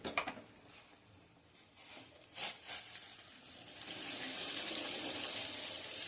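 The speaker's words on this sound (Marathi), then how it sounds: "आता ते जे गरम पाणी करायला ठेवले ते गरम पाणी मी यामध्ये घालणार आहे." Hot water is poured into a cooking pot for a spicy Maharashtrian dish, a steady splashing flow that swells louder in the last seconds after a few softer trickles and splashes, with no talking.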